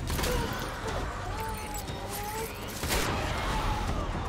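Dense, continuous shotgun fire in Death Stranding, booming shots blending into a steady roar, with a faint voice mixed in.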